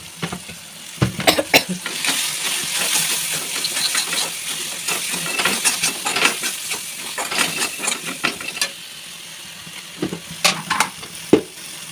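Tomato masala with chilli powder sautéing for a fish curry, a steady sizzle and frying hiss with repeated scraping stirs and clinks of a spoon against the pan, close and continuous.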